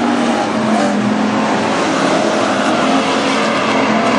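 Dirt-track race cars roar around a speedway oval during a heat race, engines loud and continuous with steady high revving throughout, no voices on top.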